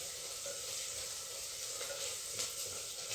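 Chopped onion fries with a pinch of salt in a hot pan until turning pinkish, giving a steady, close, moderately loud sizzle with faint stirring touches throughout.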